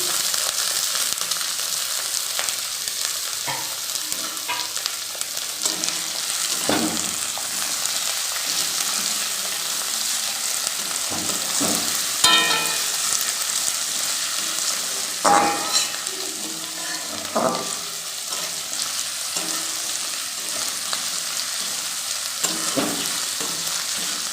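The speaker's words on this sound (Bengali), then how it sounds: "এবার আমি একে একে সব সবজিগুলো দিয়ে দিচ্ছি।" Beans, chopped carrot and capsicum sizzle in a hot pan with a constant frying hiss, punctuated by scattered stirring scrapes and clicks of a utensil, close by.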